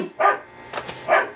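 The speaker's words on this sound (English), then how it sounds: "I got the dog barking" A small dog barks a few short yips in a brief sequence, close by, in a home.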